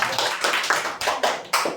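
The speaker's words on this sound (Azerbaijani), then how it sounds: "özünüzü bir alqışlayın" Students in a 7th-grade classroom clapping for themselves, a short burst of a few hands clapping in uneven rhythmic bursts, close and moderately loud.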